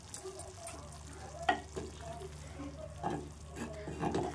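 Brinjal curry with hot water added bubbles in a pan, giving faint, scattered pops and soft stirring sounds over a low, steady background.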